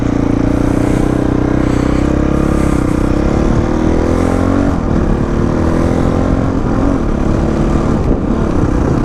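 Monnier XRF 450 supermoto motorcycle pulling away, its single-cylinder engine droning loud and steady with shifting pitch as it rides off, close to the rider with no talk over it.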